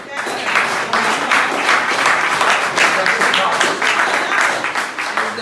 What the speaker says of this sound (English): We want to give you a round of You applause.